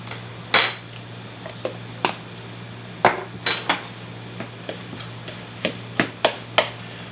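A utensil clinks and taps against a bowl as falafel batter is mixed with baking powder, sharp irregular knocks and scrapes repeating every half second or so, close and clear with no voices.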